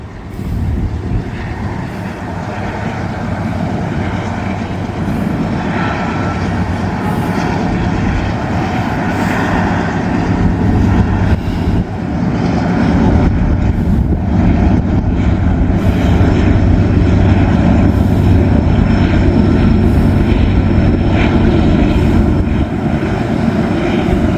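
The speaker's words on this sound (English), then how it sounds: "There's a DPU coming through." A freight train with a distributed power locomotive rolls across an old railroad bridge, a loud, steady rumble of engine and wheels that swells in the second half, with wind noise and no talking.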